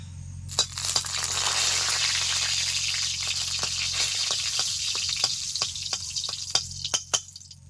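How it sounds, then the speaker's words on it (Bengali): Two dried red chilies drop into hot oil with a sudden loud sizzle that holds as a steady hiss, then sharp clinks and taps toward the end as they are stirred in the pan. "তেল গরম হয়ে গেছে দুটো শুকনো লঙ্কা দিয়ে দিলাম"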